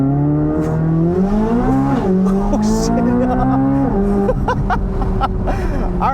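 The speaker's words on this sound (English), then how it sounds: "I want to see what we can get 0 to 60 real quick." A 2023 Chevrolet Corvette Z06 accelerating hard from 0 to 60, heard from inside the car: a loud, high engine scream rises through several gears, with a short break at each upshift.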